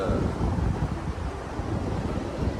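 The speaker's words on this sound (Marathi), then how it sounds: "आणि त्याचं पहिलं दर्शन करायला आम्ही डुबूला घेऊन आलो आहे बघा हा समुद्र" Sea surf and strong wind on the beach at Alibaug: a dense, steady roar of wind buffeting the microphone over the wash of waves, loud and unbroken throughout.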